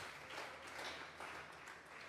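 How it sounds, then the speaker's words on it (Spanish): A church congregation claps in applause as an offering of palms to God, a faint, steady patter of many hands in a reverberant room, swelling slightly in waves. "Vamos a regalarle ofrenda de palmas al Dios de la gloria."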